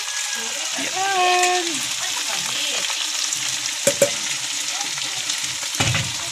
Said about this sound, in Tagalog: Guys, ilagay na po yung patatas, carrots, at saka yung sili.